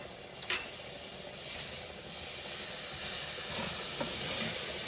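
Onions sizzling in a hot pan for a teriyaki chicken stir-fry, with ginger and garlic joining them: a steady close hiss of frying that swells slightly partway through and carries on without a break.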